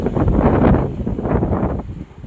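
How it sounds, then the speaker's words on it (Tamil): Strong wind roars in loud, steady gusts close to the microphone at a home, swelling and easing without pause. "கொஞ்ச நேரத்துலேயே காற்று சவுண்டை பார்த்தீங்களா? கேளுங்க."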